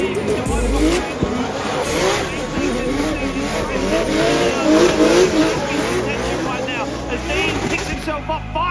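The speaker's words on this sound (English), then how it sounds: "As James Dean fires that car, a little understeer from Dean though, as he picks it back up again" Drift cars battling at a DriftMasters event, with engines revving and rising in pitch, tires screeching through slides, and a commentator talking excitedly over the action throughout.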